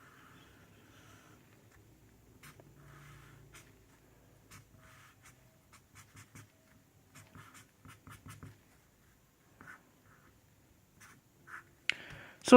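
Pen or pencil strokes on paper while a ship diagram is drawn by hand in a physics lesson, quiet intermittent scratches and taps in short bursts, with a louder rustle at the end.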